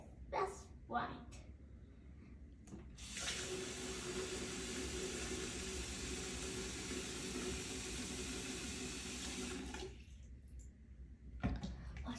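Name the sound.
tap water running for washing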